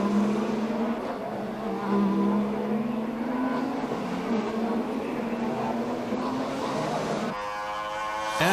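DTM touring race cars from the 1995 season circuit racing, a steady loud engine drone with harmonic whine throughout, a sharper higher-pitched engine note cutting in near the end as another car passes close.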